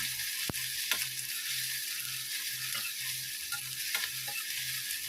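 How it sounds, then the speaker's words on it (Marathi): Finely chopped onion fries in a pan after cumin seeds have crackled, giving a soft, steady sizzle with occasional sharp clicks of a spatula against the pan, no voices. "बारीक चिरलेला कांदा घालून घ्यायचा. कांदा छान हलका गुलाबी होईपर्यंत आपण परतून घेणार आहे"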